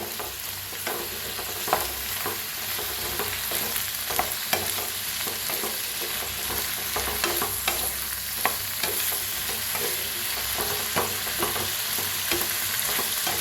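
Washed potatoes stirred and roasted in a pan for a fasting-day potato dish, a continuous close sizzle with frequent scraping clicks of a spoon against the pan.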